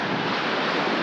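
Waves washing onto a secluded beach, a steady, dense surf roar with wind across the microphone, close and continuous for a brief moment.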